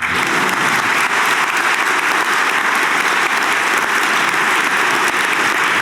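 Loud, dense applause from a large audience at a college convocation and reunion address, an even, unbroken roar of clapping that fills the whole stretch without pause.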